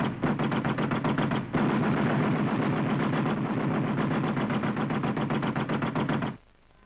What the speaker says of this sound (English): The Tommy gun was the ideal infantry weapon for close jungle fighting.